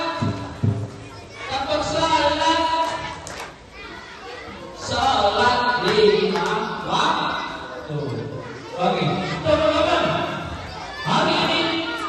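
Children in a group chanting and clapping the tepuk sholat rhythm at an Isra Mi'raj school event, loud and lively, in repeated bursts with busy voices and rhythmic claps throughout.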